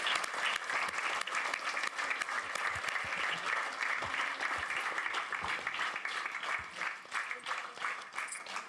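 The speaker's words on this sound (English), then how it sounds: "Come on, stand up and clap for her." Audience applause at a spiritual talk, steady sustained clapping from a crowd that holds throughout, with a faint voice underneath.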